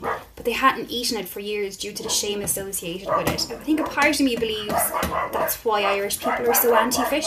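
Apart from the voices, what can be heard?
two dogs barking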